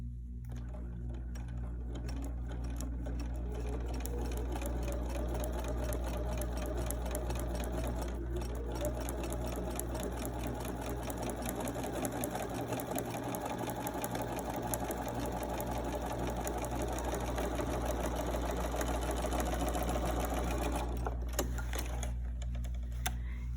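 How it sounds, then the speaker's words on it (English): A sewing machine stitches a quilt block seam in one long steady run, its fast mechanical whir and needle clatter continuing evenly before stopping near the end. "Now I'm going to sew my line."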